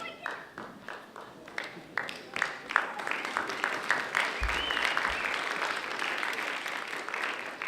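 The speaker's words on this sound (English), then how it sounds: "One more round of applause before you do." An audience at a Great Ideas Competition finalists' presentation breaks into applause, sparse claps swelling into dense, sustained clapping from a sizable crowd in a hall.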